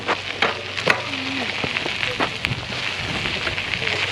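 A campfire at a campsite in Ciechocinek crackles and pops close by in sharp, irregular snaps, with people talking quietly nearby.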